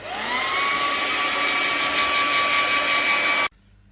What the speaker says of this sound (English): Now I just want to blow dry that.